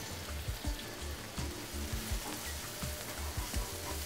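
Finely chopped onions and green chillies frying in a pan for Bengali chicken rice, giving a steady soft sizzle with repeated low thumps and scrapes of stirring, all quiet with no talking.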